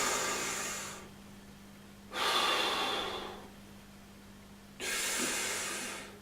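A singer practises diaphragmatic breathing, with three slow, airy breaths heard close and alone, each a soft rushing hiss separated by quiet pauses.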